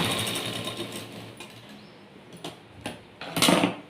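A sewing machine stitches a blouse seam, a steady mechanical run at moderate level with a few sharper clicks and a louder burst near the end, with no voices.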